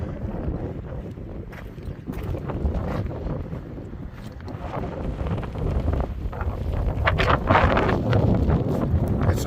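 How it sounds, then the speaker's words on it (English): Strong wind gusts roar and buffet across an outdoor dig site. The rumble is steady and swells louder toward the end, with no talk. "Now the wind is getting really kicking up."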